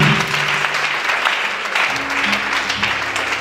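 A church congregation claps and cheers in praise of Jesus, a steady wash of applause filling the room with a few voices calling out beneath it.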